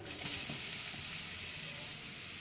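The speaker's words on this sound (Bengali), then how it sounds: "এইগুলো আমি একটু হাই ফ্লেমে এগুলোকে আমি একটু সতে করে নেবো" Chopped carrots, capsicum and green and red chillies sauté over a high flame in a pan of tempered oil, giving a steady, loud, close hiss of sizzling throughout with faint stirring underneath.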